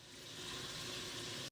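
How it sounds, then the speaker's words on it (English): A small pour of water from a tap into a square sausage mixture, a steady hissing trickle that runs briefly and then cuts off abruptly. "I'm going to add a little bit of water."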